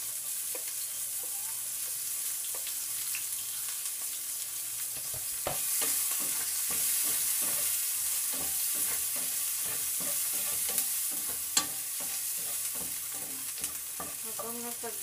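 Garlic and onion sautéing in oil, a steady close sizzle broken by rhythmic scraping and stirring strokes from a utensil, with a few clinks and no talking.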